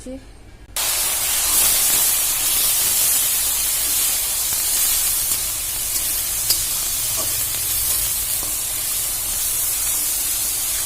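Masala paste hits hot oil and bursts into a loud, sustained sizzle after a brief quiet start, a bright crackling hiss that stays strong throughout with a few small pops and a voice speaking faintly underneath.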